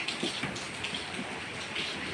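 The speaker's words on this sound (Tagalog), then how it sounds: "Umuulan." Rain falls outdoors in a soft, even hiss with faint scattered patter, quiet and continuous with no voices.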